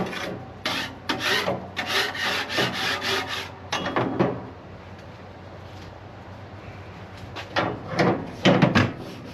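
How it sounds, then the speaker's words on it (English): A metal scraper rasps across a pellet grill grate in quick repeated strokes, close and fairly loud, with a quieter stretch midway before another run of scraping. "I'm just going to take a grate, scrape the top, and then I'll scrape the bottom of it off."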